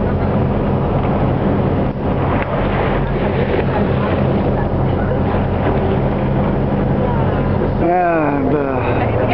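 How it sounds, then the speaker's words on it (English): Fishing boat engines drone steadily under heavy wind buffeting on the microphone, with muffled voices near the end. "fishing boats are coming in."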